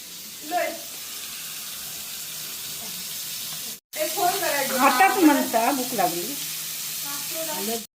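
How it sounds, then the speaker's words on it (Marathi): Prawns (kolambi) fry in hot oil, a steady, close sizzling hiss throughout, with a brief cut midway and a person talking over the second half. "कोलंबी भाजायला जास्त वेळ लागत नाही लगेच ती भाजता"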